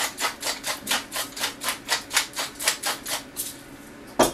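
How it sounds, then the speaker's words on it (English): Pepper grinder cracking black pepper over raw ribeye steaks, a steady run of about fifteen close, crisp grinding clicks in even rhythm, ending with a sharper knock. "We're also going to put some cracked pepper on here."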